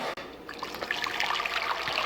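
Water pours steadily from a tap into a cooking pot for pasta, a continuous bright splashing trickle, close and fairly loud, with no talking.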